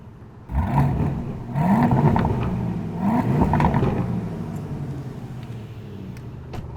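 A 2021 Aston Martin DBX engine revved up several times, each blip rising in pitch then falling back, followed by a settling idle rumble with faint crackles and pops, close and loud.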